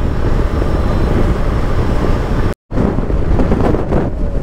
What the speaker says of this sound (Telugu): విజయవాడ ఎంటర్ కాగానే మాస్ గాలి దుమారం వర్షం పడుతుంది కావచ్చు